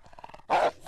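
A single short, loud dog bark or growl arrives suddenly after a stretch of faint background noise, with no talking.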